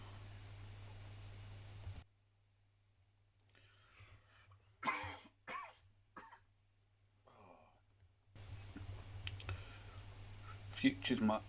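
Someone coughs several times in a short, close burst between quiet stretches, with soft clicking and light background hiss around it.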